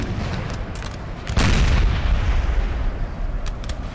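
Artillery fires in the Napoleon Total War game, a single heavy boom bursting near the middle over ongoing battle rumble, with faint distant shots scattered around it.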